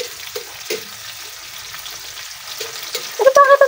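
Chopped tomatoes fry and spit in a generous amount of hot oil while an omelette is being made, with a steady sizzle, a few sharp pops, and a louder crackling burst near the end.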